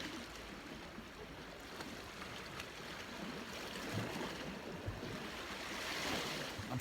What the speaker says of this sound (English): It's a very gentle lapping away as well, rather than the crashing of the waves that you get sometimes.